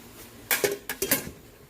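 A lid set onto a pressure cooker: a few quick metallic clanks and taps within about a second, close and crisp, then quiet.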